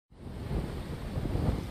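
Steady roar of rain and wind from storm Fiona sweeping over Guadeloupe, a dense broadband rumble swelling slightly over under two seconds with no voices.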